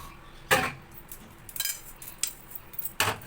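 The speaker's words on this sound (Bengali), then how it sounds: "কড়াইটা বসিয়ে দিলাম" Metal cookware clatters on a gas stove as a wok is set down, with three sharp clanks and several lighter knocks and clinks in between, close by and otherwise quiet.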